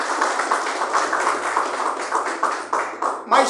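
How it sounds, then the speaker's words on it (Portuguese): Applause from a church congregation, dense and continuous clapping at moderate distance that rises and falls over a few seconds. "Palmas para eles"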